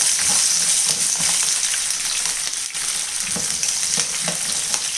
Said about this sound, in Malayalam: വെളുത്തുള്ളി ഇട്ട് കൊടുക്കാം.